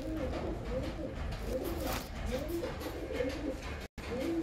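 Pigeons kept and fed at home coo in a steady, overlapping chorus, with several birds close by and a brief dropout near the end.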